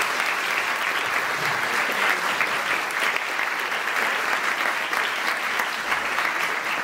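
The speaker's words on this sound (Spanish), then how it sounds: "Reconocimiento al maestro Abel Santibáñez, un aplauso por favor." An audience at a university vocational fair gives a warm, sustained round of applause. The clapping is dense and even from start to finish, with no break.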